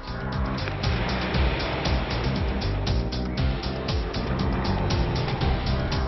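A Mercedes-Benz car drives along the Konkan coast road, a steady, loud engine and road drone with faint rhythmic pulses running through all six seconds, no voices.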